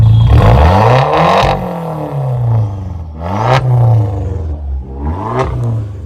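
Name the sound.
stage 3 Fiat engine rev, stainless twin exhaust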